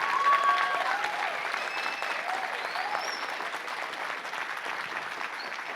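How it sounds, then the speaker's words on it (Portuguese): Steady applause from an audience at a Brazilian mangrove conference, a dense, continuous wash of many clapping hands that holds at an even level from start to finish. "vocês estão batendo essa palma, é para o manguezal do Brasil, do mundo"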